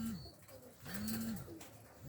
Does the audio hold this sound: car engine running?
no